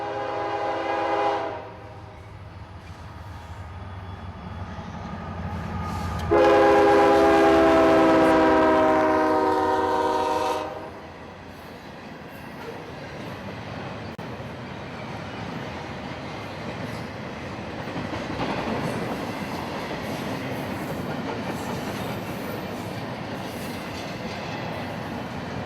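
A freight train, the Q180, rolls past at South End Live Oak under Y-pattern colour light signals, its horn blaring loudly for several seconds in strong blasts, then a long steady rumble and rattle of passing cars.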